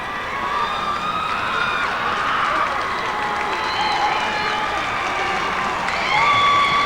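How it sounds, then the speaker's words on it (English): A stadium crowd at a 1992 state high school football championship game applauds and cheers, a broad continuous roar of clapping and voices that swells near the end. "Nice round of applause."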